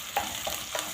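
Onion frying in oil for rice with meat, a brief close sizzle with a few quick stirring scrapes.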